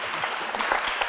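Audience applause at a talk on supporting women with addiction and mental health, a brief burst of steady clapping from many hands filling the room.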